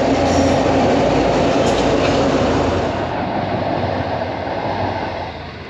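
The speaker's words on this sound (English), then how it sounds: "I'm pretty sure that's a freight train that goes down to the New South Wales" A freight train rumbles past a bikeway level crossing, loud and close, with a continuous heavy roll and faint clatter of wagons over the rails, gradually easing, no talking.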